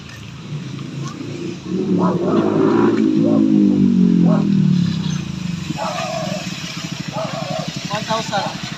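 A motorcycle engine idles and revs nearby, rising to a louder drone then settling, while several people talk over it.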